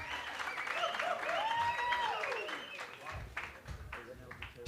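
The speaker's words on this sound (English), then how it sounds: "Can we give him a round of applause?" Applause for a presenter at a township business workshop in Olievenhoutbosch is mixed with loud voices and cheering. A steady clatter of clapping builds under the voices and continues as they ease off.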